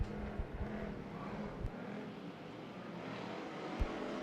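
Race cars roar down the back straightaway at Bakersfield Speedway during a weekly series race, producing a continuous broad engine rumble heard from a distance with a few brief thumps and no clear speech.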